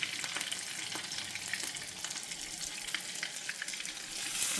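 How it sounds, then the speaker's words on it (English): Potato latke mixture seasoned with salt and pepper sizzles as it fries in a pan, a soft continuous crackling hiss with tiny pops, close but fairly quiet. "You see it starts sizzling,"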